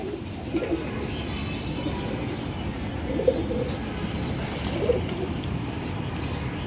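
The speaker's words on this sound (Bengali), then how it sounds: "এখানে একটা দেশি কবুতর আছে" Soft coos from a native pigeon on a rooftop repeat a few times at a distance over a constant outdoor background hum.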